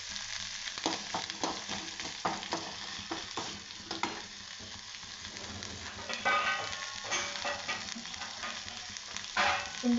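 Curry leaves crackle and sizzle in hot oil in a pan, with sharp spitting pops and scraping stirs over a steady frying hiss, close and fairly loud, with no talking.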